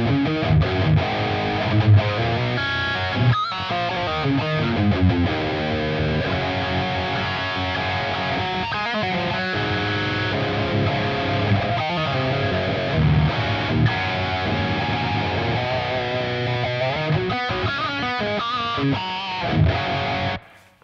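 A distorted electric guitar playing a heavy rhythm part through a Line 6 Helix, with a little reverb, chugging palm-muted chords and sustained notes, loud and continuous with brief stops before ending.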